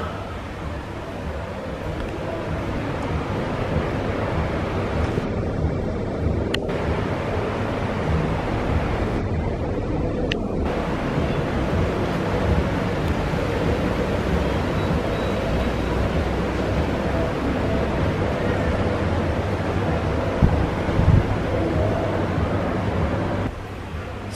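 Sea waves and wind at a seaside holiday spot on Gran Canaria, a steady broad wash of surf and gusting air over the microphone, continuous and fairly loud with brief dips and no talking.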